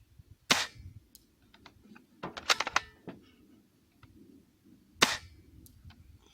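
A few sharp, loud pops spaced out over several seconds, with some lighter clicks and rattles in between, from a Double Eagle M46P FAMAS airsoft rifle firing single shots.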